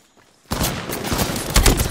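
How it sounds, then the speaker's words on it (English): Dense bursts of video-game gunfire from an Apex Legends firefight, erupting suddenly after near silence and continuing as a loud, rapid fusillade with a heavier blast near the end. "I am taking fire, friends."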